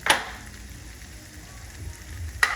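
Food frying quietly in a pan, a soft, faint sizzle throughout with two brief sharp clinks of a utensil at the start and end, no talking.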